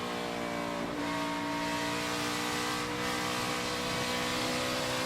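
A NASCAR stock car engine at the 2020 Drydene 311 race drones loudly and steadily in close view as the driver lifts off the throttle and waits to get back on the gas, with the engine note dipping slightly and then holding.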